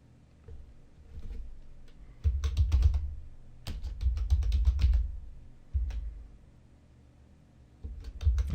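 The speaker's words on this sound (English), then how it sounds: "type in logo design twice just to give it a longer sentence" Typing on a computer keyboard, with bursts of quick key clicks separated by short pauses, close and fairly quiet with no voices.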